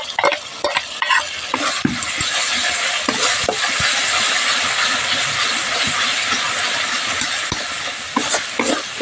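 A spoon scrapes and stirs thick masala mixed with ground peanut and coconut paste for a potato and aubergine curry, with steady sizzling underneath and irregular sharp scrapes against the pan, close and fairly loud, no voices.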